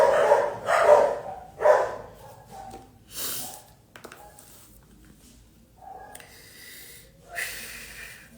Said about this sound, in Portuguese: Olha os cachorros aqui, venha tentar o meu aqui no portão.